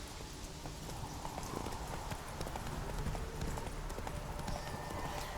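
Roach the horse's hooves clop in a steady rhythmic gait in The Witcher 3, the game sounds soft and continuous beneath a dense background wash.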